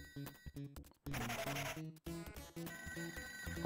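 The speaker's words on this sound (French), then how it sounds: "Le téléphone qu'on entend, ça, quand tu décroches, voilà, ça ouvre" Electronic telephone ring in the Toe Jam and Earl Mega Drive game, a chiptune-like trill repeating in short bursts over game music, loud and close.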